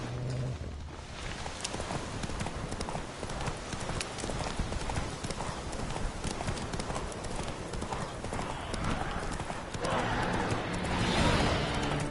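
Roach the horse clip-clops steadily through The Witcher 3, a continuous rhythmic patter of hooves close by, carrying on with game ambience and swelling slightly louder near the end.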